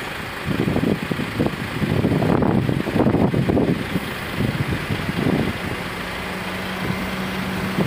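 Cars and trucks idle in a crowded queue at Merak port, a steady low engine rumble with bursts of louder mechanical noise and a faint sustained drone toward the end.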